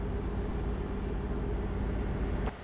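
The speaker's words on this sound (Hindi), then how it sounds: "ये ट्रक बड़ी जल्दी 90 पे चला जाता है यार, हाँ, ये हैवी ट्रक है।" A heavy truck engine driving in Euro Truck Simulator 2, a steady loud low rumbling drone held throughout with a short hiss-like burst near the end.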